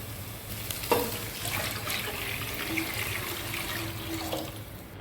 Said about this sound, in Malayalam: നമുക്കിനി ചൂടാക്കാൻ മാറ്റി വെച്ചിരിക്കുന്ന വെള്ളം ഒഴിച്ചു കൊടുക്കാം.